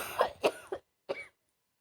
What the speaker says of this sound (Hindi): खांसी मेरा अभी भी है